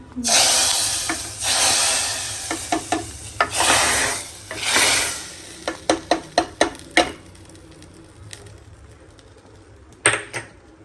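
Chillies crackle and sizzle as they temper in hot oil for sambar, a busy frying hiss with bursts of sharp spits and pops, loud and close, easing off and then flaring briefly near the end.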